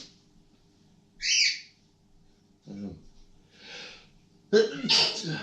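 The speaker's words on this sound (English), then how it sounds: "I think I'm going to sneeze" A single sharp human sneeze bursts out near the end, following a few quieter breaths and small vocal sounds.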